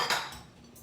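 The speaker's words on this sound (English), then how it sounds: "I'm going to mix this and then add some more." A spatula scrapes and clinks against a bowl while mixing mango mawa cake batter, one short bright metallic knock followed by a fading ring.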